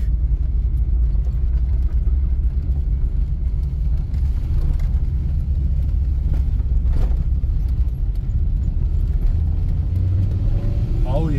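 A 1985 Soviet Lada car driving offroad, its engine rumbling steadily and loud throughout with rattles and jostling, and a short rising whine near the end.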